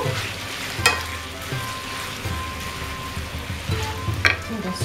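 Chicken with almonds and bamboo shoots frying in a pan, giving a steady close sizzle with occasional sharper stirring clatters and scrapes throughout.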